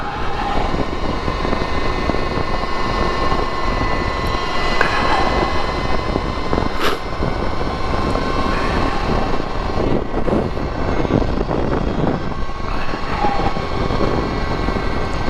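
A 2022 Energica Ribelle RS electric motorcycle accelerating gives a steady, close motor whine over a continuous rush of road and wind noise that holds at an even level throughout.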